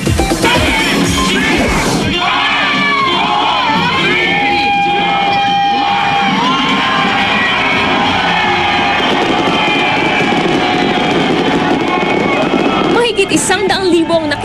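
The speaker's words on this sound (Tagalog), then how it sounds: "Pagpatak ng hating gabi, nagkaroon ng engranding fireworks display na tumagal ng halos 10 minuto." A grand New Year's midnight fireworks display at SM Mall of Asia, dense crackling bursts and booms sustained throughout, loud and continuous under a cheering crowd and a voice talking over it.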